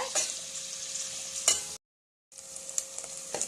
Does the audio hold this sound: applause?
no